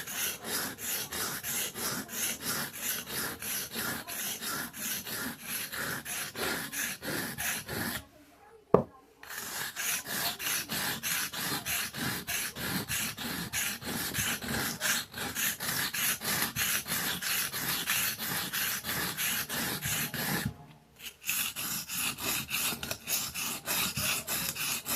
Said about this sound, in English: I'll sharpen a little bit more that karambit folder.